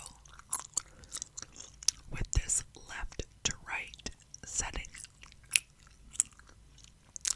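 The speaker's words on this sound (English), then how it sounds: "we are going to do a gum chewing video, a whispered gum chewing video" Gum chewing with soft wet smacks and clicks, recorded close in stereo for ASMR and moving left to right, under quiet whispering throughout.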